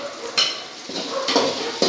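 Chopped garlic sautés in a pan for Kerala chicken curry, a soft steady sizzle with light scraping and stirring clinks, close and moderately loud.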